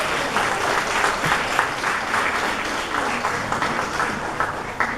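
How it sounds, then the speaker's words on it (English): An audience applauds a group of young performers at a school show, dense steady clapping from many hands filling the room at an even level throughout. "So please give huge round of applause to these kids."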